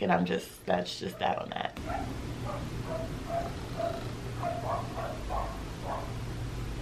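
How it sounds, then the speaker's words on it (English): Dogs in a downstairs neighbor's home bark and yap in a series of muffled, distant yelps behind the room, and someone talks briefly at the start. "sorry if you hear obnoxious barking in the background."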